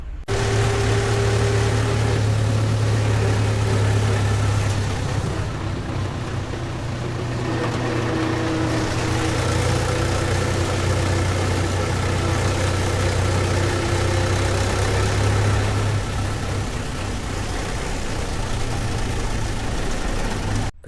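A Mahindra tractor engine runs steadily in a coconut grove, a loud, close diesel drone with constant low rumble and no break.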